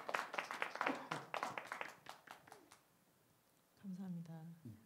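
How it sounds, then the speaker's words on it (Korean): An audience in a Korean church Bible class claps for about three seconds, a small group of fairly quiet, uneven hand claps that taper off before a voice speaks. "박수 하겠습니다."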